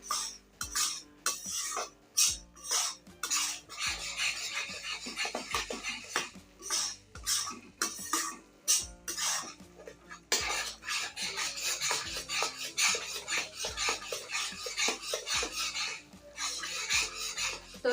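Semolina roasting in ghee over a low flame for rava besan barfi, stirred steadily with a spoon scraping the pan in repeated rasping strokes, close and continuous with no talk.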